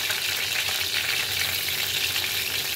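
Ginger garlic paste frying in hot oil with curry leaves in a kadhai gives a continuous, even sizzle with a faint stirring texture, close and steady throughout.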